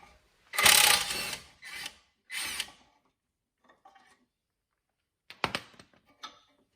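Ratchet with a 12mm socket working on car strut bolts: short clicking bursts of the pawl, a few loud close runs followed by quieter, sparser clicks.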